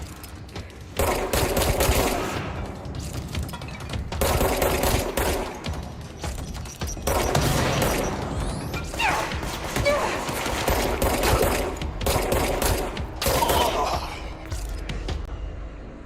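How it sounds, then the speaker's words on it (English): Enemy gunfire aimed at the player in the video game Control, loud rapid bursts of automatic shots repeating in several long volleys with brief gaps, close and dense throughout. "Who's shooting at me?"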